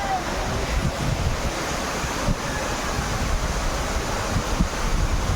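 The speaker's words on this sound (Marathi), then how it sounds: "बघू शकता मित्रांनो धबधबा" The Savatkada waterfall in the Konkan, swollen by monsoon rain, roars in a dense, continuous broadband rush close by, with wind buffeting the microphone.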